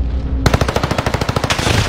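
Rapid automatic gunfire in the shooter game Warzone on Rebirth Island, a loud close burst of evenly spaced shots lasting about a second and a half, with no talking.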